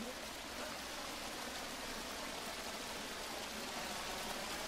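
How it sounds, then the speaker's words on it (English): A waterfall in the jungle survival game Green Hell roars as a continuous, broad rushing hiss of falling water, steady and fairly close, with no talk over it. "Oh, look at this waterfall."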